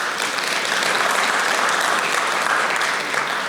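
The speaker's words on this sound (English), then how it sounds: "So please give yourself a round of applause." Conference hall audience clapping at a tech keynote, a dense, even wash of applause from many hands that holds steady throughout, loud and close.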